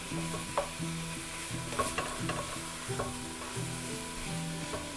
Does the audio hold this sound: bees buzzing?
no